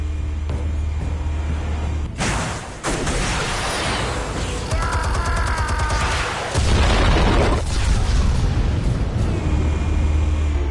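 Explosions in the Batman: The Telltale Series video game, with heavy booms and a rumbling blast that swells loudly through the middle, over a low background drone.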